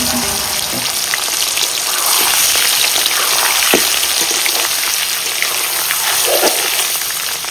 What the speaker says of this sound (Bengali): কড়াই গরম হয়ে গেছে, তেল দিয়ে দিব। আলুটা ভেজে নিব হালকা করে।